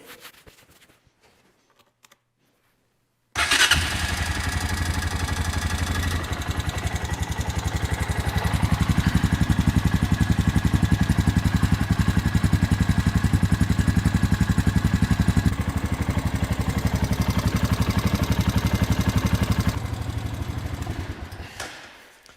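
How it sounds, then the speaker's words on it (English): Honda Foreman 450 ATV engine cranks and catches after a quiet start, then settles into a steady, close, rhythmic idle that runs on for nearly twenty seconds before easing off at the end. "We'll throw the key in, fire it up, check for leaks."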